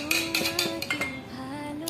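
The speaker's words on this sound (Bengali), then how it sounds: "এটা দিয়ে এখন দইটাকে ঘেটে নেব।" Curd being mixed in a bowl with curry leaves, ginger, chopped chilli, cumin, salt and soda, giving a run of light metallic clinks and scrapes of a spoon against the dish, close and steady.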